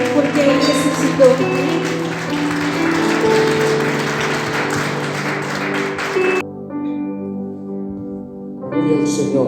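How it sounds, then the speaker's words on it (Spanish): A church congregation applauds with loud, dense clapping mixed with music and voices, then drops off sharply before picking up again at the end. "¿Por qué no le das un fuerte aplauso a nuestro Dios?"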